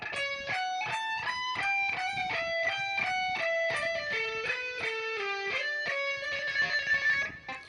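A fast run of plucked electric guitar notes in steady eighth-note rhythm from a song intro, clean and close, with bright sustained tones and no voices.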